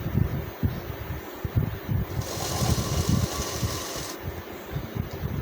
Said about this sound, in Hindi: और अब पॉकेट को सेट करके सिलाई चलाना है।